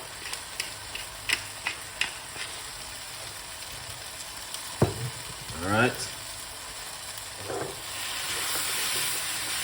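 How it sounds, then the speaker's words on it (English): Steady sizzling hiss of spinach frying in a pan, with faint stirring clatter and a brief spoken remark partway through. "we're just frying up all of this beautiful vegetable"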